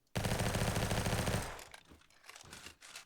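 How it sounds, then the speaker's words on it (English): Rapid automatic gunfire from an MP5 in a shooter video game rattles in a dense burst for over a second, followed by a few scattered, fainter shots and impacts. "somebody's shooting me"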